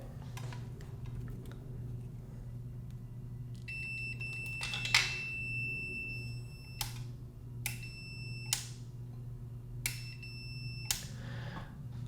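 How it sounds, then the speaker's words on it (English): An electronic beep from a Tascam mixer, sounding during a test of a faulty switch: a longer tone followed by several short repeated beeps, each with a slight stutter, over a steady low hum. "that little hiccup in the beep tells me something's weird with the switch"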